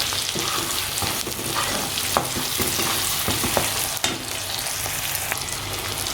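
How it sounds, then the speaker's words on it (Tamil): Onion and garlic sauté in a pan for a traditional Sankara fish curry, giving a steady, close hiss of oil and occasional scrapes and clinks from stirring, with no one talking. "இப்போ பாருங்கள், வெங்காயமும் பூண்டும் நல்லா வதங்கிருச்சு."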